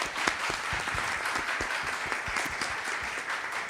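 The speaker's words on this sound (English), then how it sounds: "please join me to give a round of applause to all the distinguished speakers" Audience applause for distinguished speakers at an Indonesia-Korea relations event: a steady round of many hands clapping, even and moderately loud throughout.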